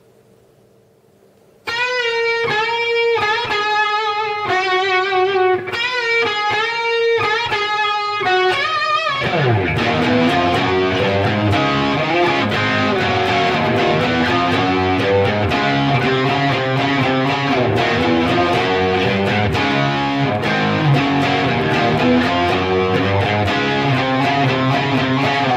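Electric guitar playing a riff: a repeated picked figure that swells into a dense, driven rock passage, loud and continuous for about twenty-five seconds, with no voices.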